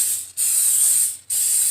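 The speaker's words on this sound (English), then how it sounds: "And then she said to spray the top with spray." Cooking spray hisses onto the top of food in three short close bursts separated by brief gaps, loud and alone.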